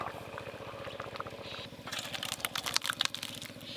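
Cooked lentils with jute leaves poured from a pot, a soft bubbling liquid pour that turns into a louder burst of splashing and crackling sounds in the second half, close and fairly quiet.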